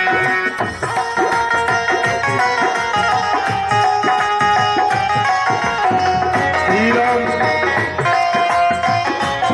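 A live music program plays loudly through an Ahuja PA sound system, a dense steady mix of instruments and rhythmic percussion filling the space without a break.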